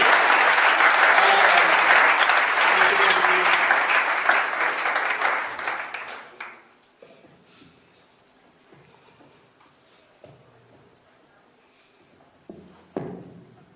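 Audience applause at a church service as a pastor is welcomed, loud and dense for about six seconds before tapering off into near silence with a few faint taps.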